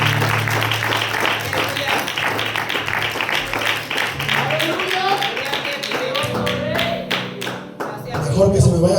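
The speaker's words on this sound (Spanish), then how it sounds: "Den un aplauso al Señor" Sustained rhythmic clapping from a church congregation, loud and continuous, with a preacher speaking over it near the end.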